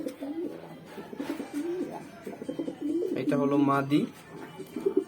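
A male grizzle pigeon coos in a breeder's loft, several deep rolling coos close up, with someone talking over and between them.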